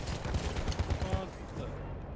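Rapid gunfire bursts in Battlefield 1 on PC, a cluster of punchy, low thudding shots in quick rhythm during the first second, then fading into a dull rumble of distant combat.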